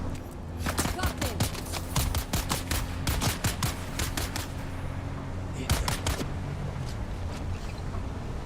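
Rapid bursts of gunfire in the desert survival game Dune: Awakening crackle in uneven volleys over several seconds, sharp reports layered over a steady low engine drone.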